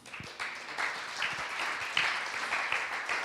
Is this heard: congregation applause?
yes